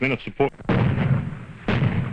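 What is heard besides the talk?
105mm howitzer firing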